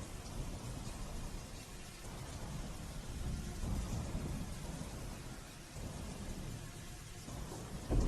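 Steady, soft rain hisses continuously, with a faint low rumble underneath and no voices.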